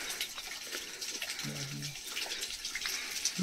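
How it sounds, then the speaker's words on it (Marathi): Water pours and splashes near a cave on a mountain trek at Harishchandragad, a soft continuous rushing flow heard at some distance with a brief voice over it. "हे बघा अशा प्रकारे इथून पाणी पडतंय."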